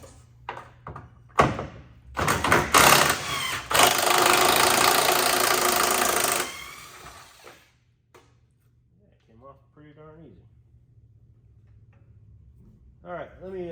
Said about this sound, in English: I'm gonna try the old impact wrench because we'll see